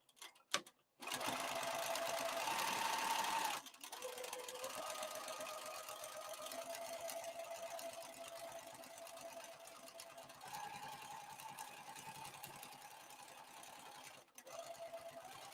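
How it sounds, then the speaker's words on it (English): A sewing machine runs steadily stitching around a crossbody bag at an eighth-inch seam, a loud sustained hum with brief pauses and restarts, no talk. "I'm just going to start sewing, and I'll sew that all the way around, 1/8 of an inch, same stitch length."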